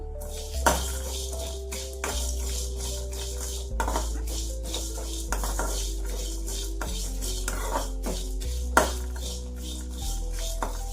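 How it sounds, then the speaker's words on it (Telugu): Almonds and cashews fry in a pan with spices while a spoon stirs them, giving soft intermittent metal clinks over a low, steady cooking background. "ఇవి లైట్గా కలర్ చేంజ్ అయ్యే వరకు వేయించుకున్నాము"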